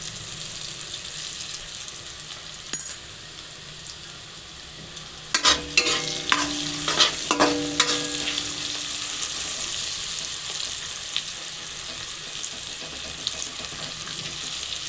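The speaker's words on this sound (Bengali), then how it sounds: "ভেন্ডিটা যতক্ষণ না লাল হয়ে আসবে ততক্ষণ ভাজতে থাকবো" Okra fries in a pan under a steady sizzle. A burst of clattering spatula strokes against the metal comes midway, then the hiss carries on alone, with no talking.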